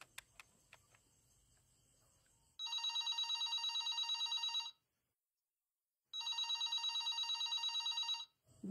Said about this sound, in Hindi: मैं फोन करता रहूंगा प्रीत, रुकूंगा नहीं जब तक तू फोन नहीं उठाती